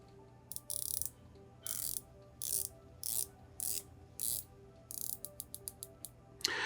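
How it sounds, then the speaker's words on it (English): The rotating bezel of a microbrand dive watch is turned in short bursts of crisp ratchet clicks. The clicks are close and clear with pauses between turns, and no voices are heard. "The bezel action is pretty good on this watch."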